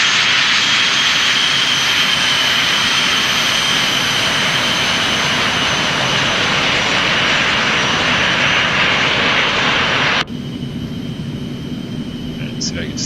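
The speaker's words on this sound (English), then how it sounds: "I know this is kind of loud, but I want you to be able to hear the plane" Aerobask Eclipse 550 business jet taxiing in X-Plane 11, a loud steady jet engine whine and roar held near and constant, cutting sharply to a quieter hum near the end, with someone talking over it.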